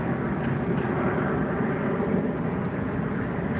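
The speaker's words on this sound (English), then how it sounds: "There's a plane overhead at the moment." An airplane flying overhead above Adelaide city, a steady broad engine roar at a distance, even in loudness throughout and heard alone.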